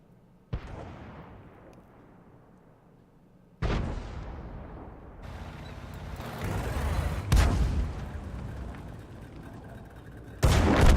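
Gunfire in a tank video game, including the final winning shot from a Marder 38T: several heavy booming shots with long rumbling decays, the last one loud and abrupt.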